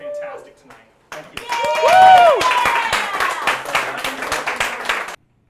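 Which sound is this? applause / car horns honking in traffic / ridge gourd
applause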